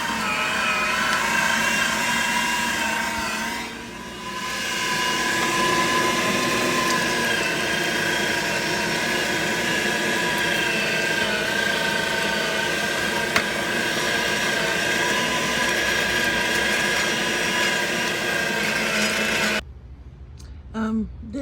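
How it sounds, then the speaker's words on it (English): Electric meat grinder working through cubed pork shoulder, a steady loud mechanical whir with grinding texture that runs almost unbroken, dips briefly once and cuts off near the end. "Since I've already got the grinder out, I'm already grinding pork"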